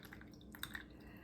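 Homemade chicken broth is poured into plastic ice cube trays, giving a faint, steady, close liquid trickle with a couple of small drips and no talking.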